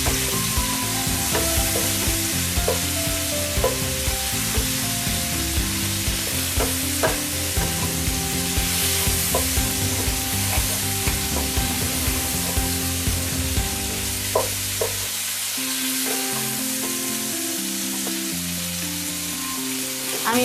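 Shrimp frying in oil in a pan, a steady loud sizzle running throughout with occasional stirring clinks, no talking.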